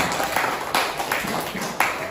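A classroom of students claps for a classmate, a dense, steady patter of many hands with a few louder bursts, fairly close and without talk.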